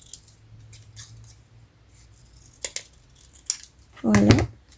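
Scissors cut through a handmade paper card, with a few light snips and then one longer, louder crunching cut near the end, over a quiet room hum.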